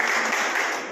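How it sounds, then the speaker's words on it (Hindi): Loud, dense applause fills the hall at a Bhim Army Bharat Ekta Mission gathering in Narsinghpur, honoring a newly elected MP's parliamentary constituency, steady and crowded throughout with no break. "एक बार जोरदार तालियां उस संसदीय क्षेत्र के लिए।"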